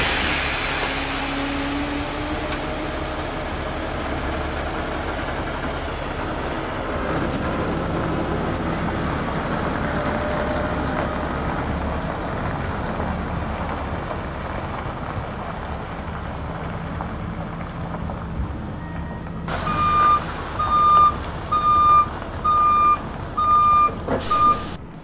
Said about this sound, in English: pull these outriggers in and pull the truck up a little bit and then reposition